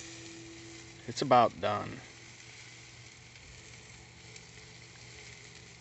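Shrimp, a thick steak and boiled potatoes sizzle on a grill with a steady, soft frying hiss throughout, while someone speaks briefly near the start.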